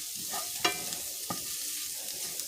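Pulled jackfruit sizzles steadily in a hot pan, with a constant bright frying hiss and a couple of sharp stirring scrapes, close and fairly loud, with no voices.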